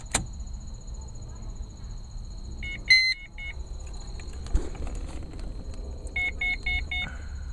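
The dashboard of a 1988 Pontiac Trans Am GTA chimes through its start-up cycle: clusters of short electronic beeps arrive in two bursts over a quiet cabin background with a faint steady whine.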